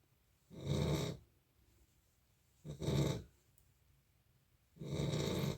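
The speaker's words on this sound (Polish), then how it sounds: "Mój piesek będzie dalej chrapał" A pet dog snores in slow, regular breaths, three drawn-out rasping snores separated by quiet pauses, close and moderately soft in a calm indoor setting.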